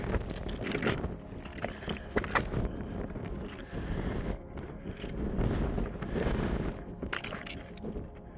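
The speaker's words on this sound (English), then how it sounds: "Wind's picked up." Strong gusty wind buffets the microphone at a Scottish mountain summit, a loud, rumbling roar that swells and eases without pause and with no voices.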